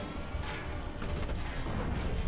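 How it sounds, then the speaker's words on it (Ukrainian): Distant gunfire and artillery booms from the War Thunder video game sound in several muffled bursts over a dense, rumbling battlefield background. "Ось тут стріляють, але я не бачу."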